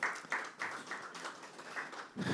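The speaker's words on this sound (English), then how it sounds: "Can you please give him a round of applause as we thank you?" Audience applause at the eNaira Media Parley, a steady wash of clapping from a crowd that swells and dips in waves for a couple of seconds, moderately loud and without talk.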